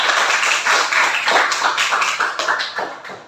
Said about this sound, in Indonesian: tepuk tangan kita semua ya